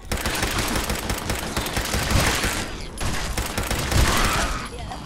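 Gunfire in the game Fallout 4: sustained, loud rapid-fire volleys that crackle almost without pause, with a few heavier thumps mixed into the dense burst.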